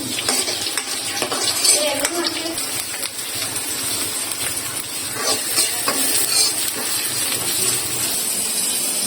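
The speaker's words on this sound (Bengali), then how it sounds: "প্রথমে কিছু শুকনো মরিচ ভেজে নিই" Dried red chilies fry in hot oil in a pan, a continuous crackling sizzle with scraping stirs and occasional clinks of a metal spoon against the pan, close and fairly loud.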